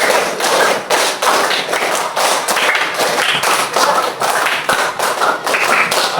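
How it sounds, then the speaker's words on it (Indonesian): Students in a classroom clap their hands together, a loud, rapid run of sharp close claps with rhythmic bursts lasting several seconds. "Beri tepuk tangan dulu semuanya"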